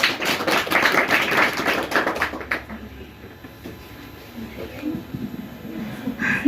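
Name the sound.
audience applause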